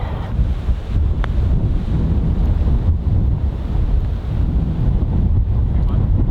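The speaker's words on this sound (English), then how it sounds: "It looks like the wind's coming back in." Strong wind buffets the microphone on a golf course, a loud, continuous rumbling roar that barely changes for the whole stretch.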